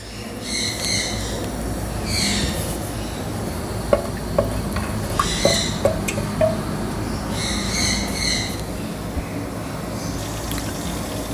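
Crushed garlic, about seven or eight cloves, frying in oil in a clay pot, a steady soft sizzle with a few light clicks of utensil against the pot and brief brighter hissing bursts, no voices.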